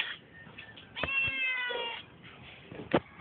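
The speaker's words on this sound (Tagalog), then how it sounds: "Pusa lang yun." A cat gives a single clear, drawn-out meow lasting about a second, fairly close, followed by a short fainter cry and a sharp click.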